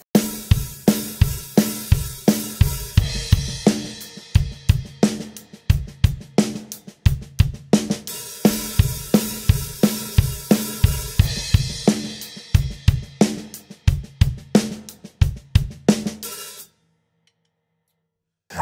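A rock drum loop, bars 25 to 26, plays as a loud, driving kit groove of kick, snare and crashing cymbals that repeats, then cuts to silence near the end.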